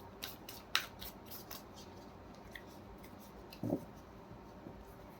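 Tarot cards being shuffled by hand, heard as a few soft, brief papery flicks and taps near the start and one muffled rustle a few seconds later, all faint against a quiet background.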